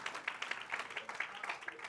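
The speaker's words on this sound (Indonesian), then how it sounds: "Kasih tepuk tangan buat Tuhan kita saudara." A church congregation applauds together, a steady wash of many hands clapping at moderate distance, uneven but continuous with no break, without speech over it.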